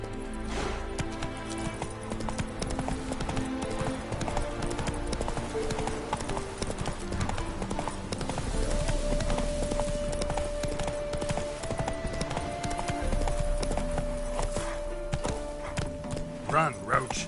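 Horse hooves clip-clopping at a run in The Witcher 3, steady rapid hoofbeats over game music and ambience, with occasional talk and a brief whinny.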